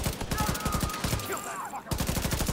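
Sustained automatic gunfire in The Division 2, rapid loud bursts of shots in a steady rhythm, briefly pausing before resuming, with a voice speaking underneath during the gap.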